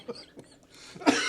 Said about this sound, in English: just coughed up red vine.